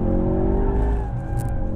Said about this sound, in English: and you can really slide the car around quite nicely